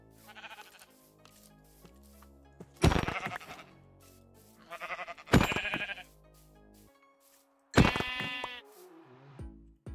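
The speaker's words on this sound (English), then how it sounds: "Sheep!" Minecraft sheep bleating in a hardcore survival world, three loud, close, wavering bleats spaced a few seconds apart over quiet in-game ambience, with no talk.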